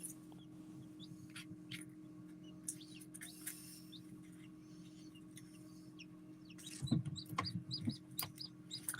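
Newly hatched chicks, including a black game chicken, chirp and cluck softly under a steady hum, with scattered high peeps growing busier and louder toward the end.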